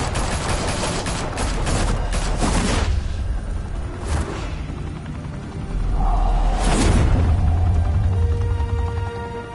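Gunfire in the Telltale's Batman game opens as a loud volley of rapid shots, then heavy single blasts with booming rumbles follow several seconds apart, and a low roar lingers afterwards.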